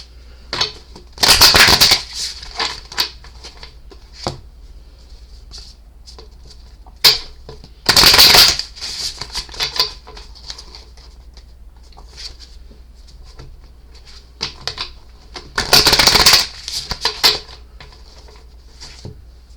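Astrology cards being shuffled in three distinct bursts of crisp riffling, each lasting about a second, separated by quieter stretches of light handling, close and clear with no talking.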